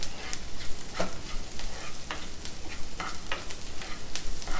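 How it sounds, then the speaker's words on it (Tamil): Steady frying sizzle of ginger and garlic sautéing in a pan for pepper chicken, with intermittent scraping and stirring clicks, close and continuous, no voices. "இப்போ இதையும் நல்லா வதக்கிக்கலாம்"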